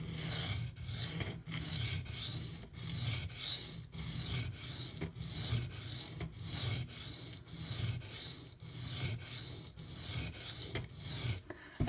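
Maxamet/D2 steel knife blade drawn over a coarse Kyoto 150 sharpening stone, a close rhythmic rasping scrape repeating in even strokes, about two per second, with no voices.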